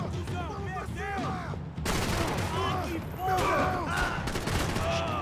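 Gunfire in Max Payne 3 rings out as dense, overlapping shots over a tense in-game soundtrack, with voices talking through the firefight.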